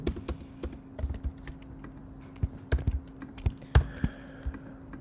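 Fingers type on a computer keyboard in quick, uneven bursts of close key clicks, with a steady low hum underneath.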